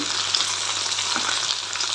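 Sliced okra for a spicy onion bhindi dish fries in a pan with a dense, even sizzle and soft stirring, loud and close with no speech.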